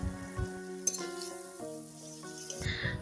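Duck meat frying in oil with turmeric and spices, a soft, steady sizzle that sits faintly beneath sustained musical tones for about three seconds.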